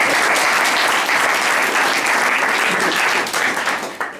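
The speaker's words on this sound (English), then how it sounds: "Big round of applause for Fintan" Audience at a Weaveworks conference talk on containers across clouds clapping, sustained dense applause from a crowd that fades at the end.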